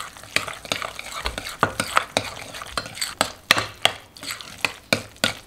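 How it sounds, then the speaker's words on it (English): Raspberry Jell-O powder from a sugar-free packet being mixed into cottage cheese, with a steady rhythm of spoon knocks and scrapes against a bowl, close and fairly loud with no talking. "you're gonna mix that in with the cottage cheese"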